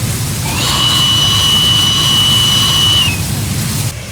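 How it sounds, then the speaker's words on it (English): The real whistle of the LNER A3 steam locomotive Flying Scotsman, recreated in Train Simulator Classic, gives one loud, steady, shrill blast lasting about two and a half seconds over a low rumbling background. "they've actually bothered to give Flying Scotsman her actual whistle"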